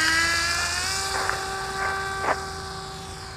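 A small foam park-flyer RC autogyro with a teetering rotor head and propeller spins up under gentle throttle, a steady high electric whine with a few brief surges, close and moderately loud, no talking.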